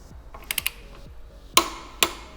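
Torque wrench tightening the front axle of an Aprilia RSV4 on forged wheels to 54 Nm, with a few quick ratcheting clicks followed by two sharp louder clicks, close and alone.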